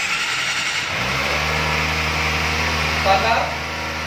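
A 2021 Kawasaki ZX-25R ABS motorcycle's engine cranks and catches, then idles steadily with a rising, buzzing tone and a brief blip of revs near the end. A voice is heard faintly under the engine.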